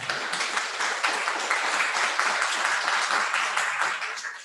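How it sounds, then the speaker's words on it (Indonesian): Audience applause at a mechatronics vocational school presentation: a continuous wash of many clapping hands at moderate distance, fading out at the end. "Silakan tepuk tangan."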